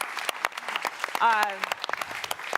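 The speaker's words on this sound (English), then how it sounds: "let's give our panelists a round of applause" Audience applause for panelists at the end of a 5G talk series session: clapping runs throughout as a moderate patter while someone speaks over it, with a brief tonal voice in the middle.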